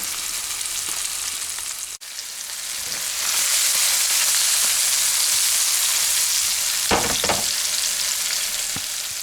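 Anchovies frying in a pan of oil give a loud, steady crackling sizzle that swells as the pan is gently shaken, with a couple of brief scraping knocks near the end.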